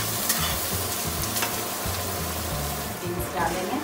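Curry leaves and finely chopped onion stirred in a hot frying pan while cooking poha, giving a steady close sizzle with soft stirring scrapes throughout.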